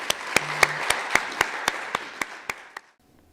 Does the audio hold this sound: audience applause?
yes